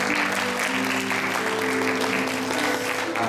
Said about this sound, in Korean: 성도 여러분께서는 박수로 환영해 주시기 바랍니다.